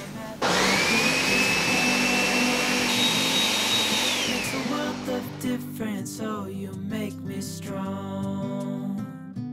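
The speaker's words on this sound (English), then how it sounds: "we're gonna puree our soup. We want it to be pretty smooth" A blender purees apple butternut squash soup, a loud continuous motor whir with a rising pitch that drops off and turns choppier as the blades work through the thick mixture, no talking.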